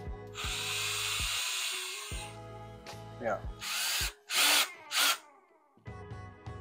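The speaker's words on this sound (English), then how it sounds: "then we can tighten the screw and the shelf will be installed in that place" A cordless power drill driving screws while a pull-out cabinet organizer shelf is installed in a kitchen cabinet, close and loud in several whirring bursts with pauses and short clicks between them, with a brief spoken word.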